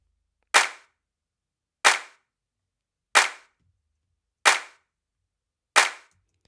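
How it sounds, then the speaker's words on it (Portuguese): Five electronic drum clap samples from a music mix play alone as sharp, dry, evenly spaced hits, each with a fast attack and short decay, about 1.3 seconds apart. "Nessa música tem alguns claps aqui,"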